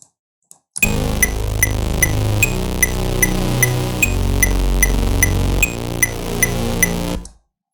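A steady, buzzing electronic synth loop from the "Epic Assault" preset, with a heavy low end and a regular rhythmic pulse, playing alone and ending abruptly.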